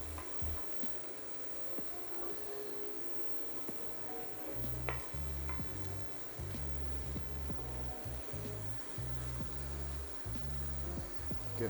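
Oyster and cremini mushrooms sautéing in a pan, a steady sizzle with irregular stirring scrapes and knocks that grow busier partway through, heard close with no talking.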